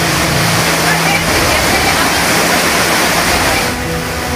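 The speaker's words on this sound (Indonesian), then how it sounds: "Banjir bandang yang menerjang kawasan Puncak Bogor, Jawa Barat merusak puluhan rumah warga." Floodwater from a flash flood in the Puncak area of Bogor, West Java, rushes in a loud, steady roar that runs through the whole stretch without a break.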